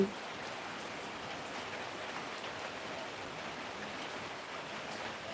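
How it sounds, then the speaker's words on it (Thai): Steady rain falls continuously, a soft even hiss of drops on surfaces with no break, fairly quiet and without voices. "มาชมฝนกันนะคะ ฝนตกที่ลับปางนะคะ"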